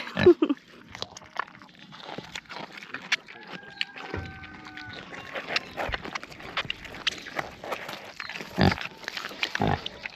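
Pigs in a farm pig pen grunt and snuffle close by, with irregular short bursts and crunchy chewing sounds scattered throughout and no talking.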